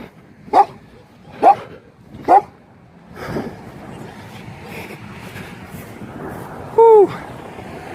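Dogs bark at a passing runner on a street: three sharp, evenly spaced barks close by, then a louder, longer yelp or whine near the end over steady outdoor noise.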